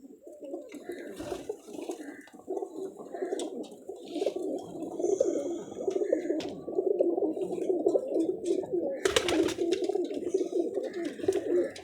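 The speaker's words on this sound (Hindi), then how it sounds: "ये फिरोजपुरिया भी देख लें कबूतर।" Ferozpuri pigeons coo continuously, with several birds making overlapping low, rolling calls close by against light background noise.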